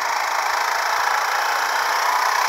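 A quad bike engine runs loud and close, a steady high-pitched drone held throughout with no clear pauses, heard alone without voices.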